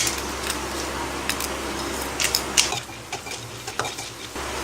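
Mustard seeds and lentils sizzle in hot oil as a tempering, with steady frying crackle and a few sharp pops, while a utensil stirs and scrapes the pan in short bursts.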